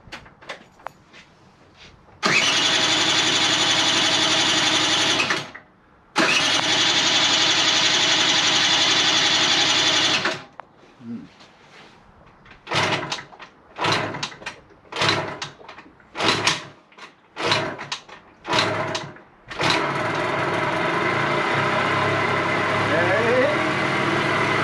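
A restored Vespa scooter engine fires up for its first start, running in two long loud bursts with a brief cutout, then revving in sharp blips before settling into a steady idle close to the microphone.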